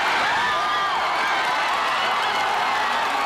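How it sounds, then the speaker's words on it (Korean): A church congregation roars as the first goal goes in during a televised football match, a loud, sustained wall of cheering and shouting voices filling the room with no pause. "첫 골이 터지는 순간 교회가 떠나갈 듯 신도들의 함성이 터집니다."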